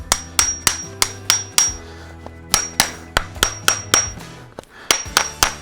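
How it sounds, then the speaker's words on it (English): A farrier hammers horseshoe nails tight against pull-offs, sharp ringing metallic blows in quick bursts of several strikes with brief pauses between, close and loud. "So I'll tighten the nails. Some people use a block, I use my pull-offs."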